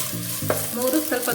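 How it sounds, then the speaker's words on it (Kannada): Chopped onions hit hot oil with a loud burst of sizzling, then keep frying with a steady crackling hiss and stirring noises, close and clear, with no talking. "ಎಣ್ಣೆ ಬಿಸಿ ಆದಮೇಲೆ 3 ಈರುಳ್ಳಿ ಹಾಕ್ಕೊಳ್ತಾ ಇದ್ದೀನಿ"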